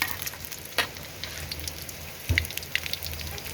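Crushed garlic fries in a pan with a steady sizzle, broken by a few louder pops and the scrape of stirring, close and clear.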